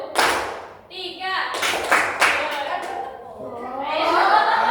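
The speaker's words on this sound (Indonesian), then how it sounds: "Kalau tepuk 2, nanti tepuk 2 kali" Children clap their hands in a classroom clapping game led by a teacher, with sharp bursts of claps breaking up the lively chatter of young voices.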